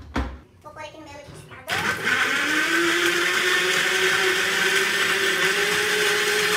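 Kitchen blender whirring steadily as it blends a drink, starting abruptly after a brief spoken phrase and running loud and continuous at an even pitch until the end.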